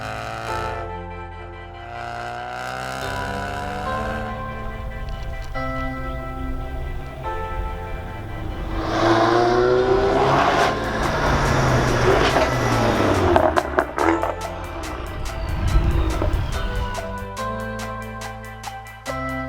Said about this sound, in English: I'm driving a 2016 Ford Focus RS.